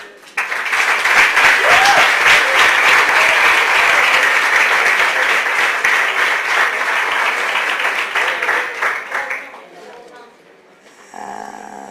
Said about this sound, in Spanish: Un aplauso más grande para los que han pasado hasta ahora.